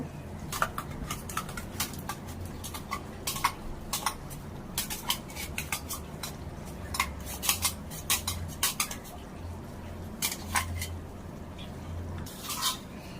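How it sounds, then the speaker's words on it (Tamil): A spoon scrapes and clinks against a kadai while ground paste is stirred into a part-cooked anchovy (nethili) fish curry, with irregular sharp metallic taps over a soft wet churning bed, close and moderately loud, without speech. "இப்போ நல்லா மிக்ஸ் பண்ணுங்க"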